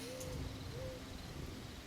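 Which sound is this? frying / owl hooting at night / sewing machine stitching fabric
owl hooting at night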